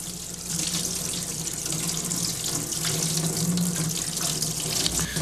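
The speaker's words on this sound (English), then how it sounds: "Rollers used in latex should be soaked for 15 to 20 minutes in detergent and water, then scraped off with a cleaning tool under running water." A paint roller used with latex paint is scraped with a cleaning tool and rinsed under a running tap, making a steady, continuous rush of water with no talking throughout.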